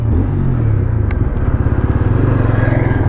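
A 2025 TVS Apache RTR 160 4V motorcycle in sport mode pulls away under acceleration, with a close, loud engine rumble that pulses quickly and climbs steadily, and no one talking.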